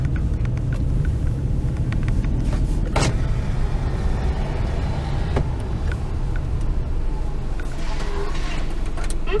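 Car driving into the 5th-floor multi-storey parking garage of the Ito-Yokado at Shin-Yurigaoka, with a continuous low rumble of engine and tyres, echoing interior ambience and a few brief sharp knocks.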